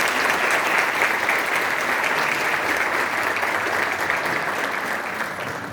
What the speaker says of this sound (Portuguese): Nosso aplauso mais uma vez, então.